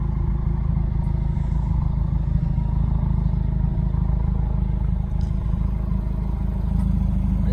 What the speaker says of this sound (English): even though this is the stock exhaust, it doesn't have any mufflers